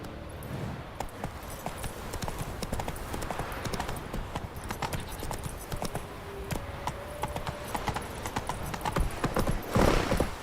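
Hooves of the horse Roach clip-clop at a gallop in The Witcher 3 on PC, a quick continuous beat over game ambience and music that swells louder near the end.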